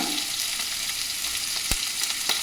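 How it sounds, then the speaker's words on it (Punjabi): Cumin seeds sizzle in hot oil inside a pressure cooker, a loud, steady crackling fry with occasional sharp pops and a brief clatter near the middle. "ਕੁੱਕਰ ਦੇ ਵਿੱਚ ਆਪਾਂ ਪਾਇਆ ਤੇਲ ਤੇਲ ਚ ਪਾਵਾਂਗੇ ਥੋੜਾ ਜੀਰਾ"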